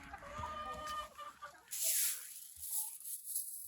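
Chickens clucking close by, with scattered short calls over a soft farmyard background, then a brief burst of rustling noise.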